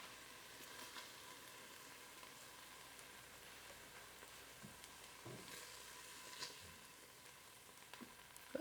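Scallops sear in a Ninja Foodi with a soft, steady sizzle. The sizzle stays low and even throughout, with a few faint clicks and taps near the end.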